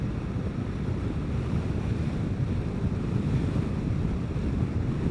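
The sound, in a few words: wind blowing while riding a Vespa GTS scooter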